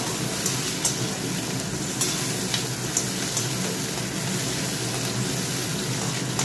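Onions and chicken sizzling in a pan, a steady soft frying hiss with faint crackles and occasional light stirring clicks, fairly quiet and continuous with no talk.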